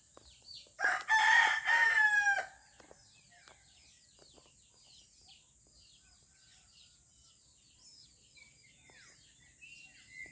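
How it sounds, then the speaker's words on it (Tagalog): In the quiet countryside, a rooster crows loudly once, then smaller birds chirp and call faintly in the quiet background for the rest of the time. "Maririnig mo dito yung mga huni ng mga ibon"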